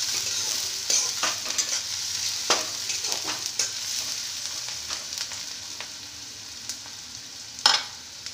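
Chopped onion, ginger and green chili sizzle steadily in hot oil, broken by scraping stir strokes of a spatula, with a sharper clatter near the end; close and fairly loud, no talking.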